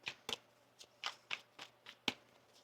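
About seven crisp, papery tarot card-shuffling bursts in quick succession, close and fairly quiet, with no talking.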